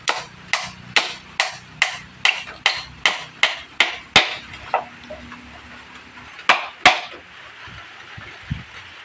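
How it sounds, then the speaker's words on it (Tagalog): Hammer driving nails into a wooden brace inside a homemade soundbox: a rapid run of about ten sharp, loud, close strikes, then a pause and two more blows, with no talking. "Yan, ipako na natin."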